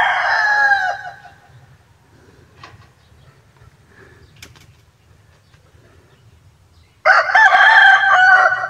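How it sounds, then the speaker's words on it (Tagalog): A rooster crows loudly nearby, then after a few quiet seconds with faint background noise, crows again just as loud. "ang ingay ng manok"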